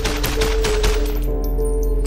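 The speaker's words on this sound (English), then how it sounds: "shortly after, 5 gunshots rang out." An AR-15 rifle firing five rapid, loud gunshots in quick succession, followed by a ringing tone that fades into quiet.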